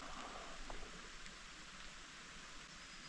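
Light, misty rain falls steadily outdoors as a soft, even hiss with no distinct drops or pauses, quiet and continuous throughout.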